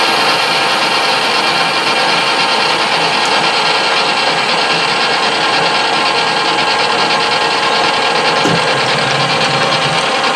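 A die cutting thread on a carburettor adjuster screw for an International Model M 3HP engine, a continuous loud, gritty mechanical rasping and ratcheting throughout, close up with no talking.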